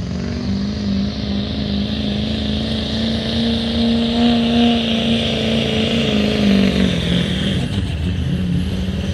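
A heavy Chevrolet diesel truck engine revs and climbs in pitch at a truck pull, a loud sustained roar building steadily under no talk, with a harmonic whine rising toward the end.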